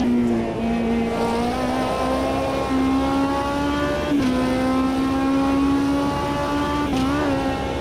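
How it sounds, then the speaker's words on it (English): Race car engine in the sim racing game AMS 2, revving hard through the gears with rising and falling pitch, brief lifts and downshifts around corners, loud and continuous with no talking. "listen to this beautiful engine going for it"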